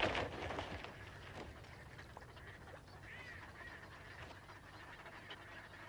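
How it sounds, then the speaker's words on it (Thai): Ducks calling at a nature spot with many birds, including white-necked and pintail ducks: scattered quacks and honks, loudest at the start, then fainter calls over a quiet outdoor background. "วันนี้ มีนกเยอะ จังเลย ใช่แล้วครับ โดยเฉพาะเป็ด"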